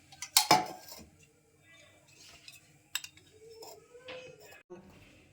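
Ghee spooned into a pan for frying paneer, a sharp metal clink of spoon against pan followed by softer scrapes and light kitchen clatter, close and fairly quiet.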